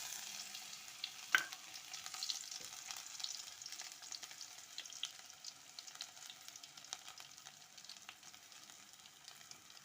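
Onions fry in oil with fenugreek seeds that have just been tempered, giving a soft, steady sizzle with light crackles and one sharp click near the start, and no voices.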